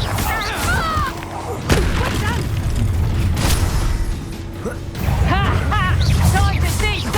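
A Bombarda spell explodes in the game Hogwarts Legacy, heavy booms and crashing blasts amid loud battle effects, with voices calling out over the fighting.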